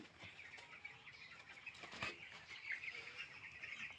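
Ailing backyard chickens with indigestion and vomiting cluck faintly amid soft rustling and a brief flutter of wings, a low, continuous murmur of fowl heard at a distance with no talk.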